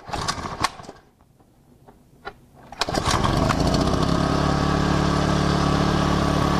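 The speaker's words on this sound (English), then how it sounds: "Push the choke, start the unit, let it warm up while you hook up the hoses." A few faint clicks and bumps precede the small engine of a hydraulic power unit catching after about three seconds. It then settles into a steady, loud, close running drone as it warms up.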